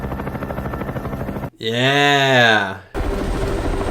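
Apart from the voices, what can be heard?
helicopter flying in the movie The Hunt for Red October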